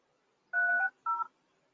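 Two short telephone keypad dialing tones sound back to back, clear and isolated in a quiet room, as a voicemail number is entered.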